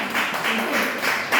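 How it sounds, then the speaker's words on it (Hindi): Applause from an audience at a speech event honouring a guest, a steady wash of clapping that swells in pulses across the moment, fairly loud and continuous with no talk over it. "जोरदार ताली हो जाए एक बार, जोरदार ताली।"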